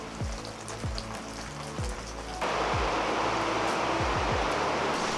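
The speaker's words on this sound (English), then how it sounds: "Literally just started priming the house, and then it starts raining." Steady rain falls on and around a house being primed, a broad hiss that swells noticeably louder about halfway through, with low thumps and knocks scattered underneath and no talking.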